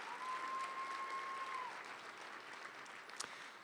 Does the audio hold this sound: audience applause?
yes